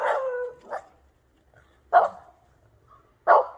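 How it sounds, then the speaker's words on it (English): A dog barks outdoors in three separate bursts, moderately close, with quiet pauses between them. "What's she barking at?"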